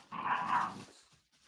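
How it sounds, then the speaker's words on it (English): An excited, wild puppy lets out a single close growl lasting about a second, rough and throaty, then falls quiet in a calm indoor room. "We got a wild puppy in here today, man."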